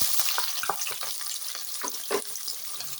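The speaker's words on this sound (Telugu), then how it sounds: "ఇలా హీట్ అయిన తర్వాత 1 స్పూన్ శనగబ్యాళ్ళు, అలాగే 1 టేబుల్ స్పూన్ ఆవాలు, కట్ చేసి పెట్టుకున్న ఉల్లిపాయలు," Chana dal, mustard seeds and chopped onions hit hot oil in a pan, giving a steady sizzle with scattered sharp crackles and pops, fairly soft and close, with no talking.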